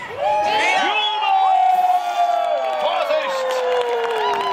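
A crowd at the MPS Rastede 2022 medieval festival cheers and whoops loudly and continuously, with several voices shouting over one another close by.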